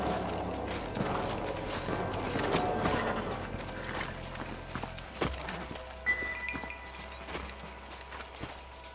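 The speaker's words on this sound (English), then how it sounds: "Let's hold up a minute and find a spot for our horses." Horses' hooves clip-clop in the Red Dead Redemption western video game, a busy run of hoof beats over the first five seconds that gives way to scattered clatter and mechanical clicks.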